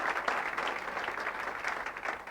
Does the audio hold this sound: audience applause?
yes